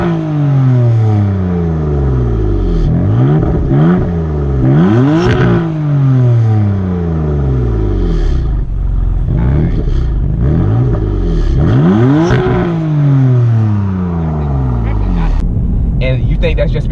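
A BMW F82 M4 engine revs repeatedly, rising and falling in pitch in a steady cycle, loud and close, with occasional hissy blow-off valve bursts.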